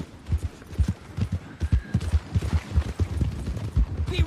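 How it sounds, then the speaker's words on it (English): Horse hooves clip-clop in a video game, a steady run of rhythmic thuds close by that carries on throughout without pause. "Alright, now, Starbuck, pick him up, put him on your horse."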